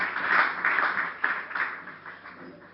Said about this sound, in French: Applaudissons pour la gloire du Seigneur.